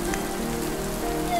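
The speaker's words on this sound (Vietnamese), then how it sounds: "Trời mưa." Rain sound effect, a steady close patter of drops on a surface filling the whole short moment, without talking.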